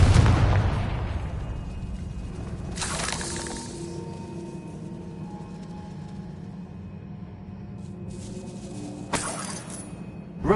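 A Confringo spell detonates in the game Hogwarts Legacy, opening with a loud crashing blast that decays into a long ringing tail, followed by a second sharp burst near the end, alone with no speech.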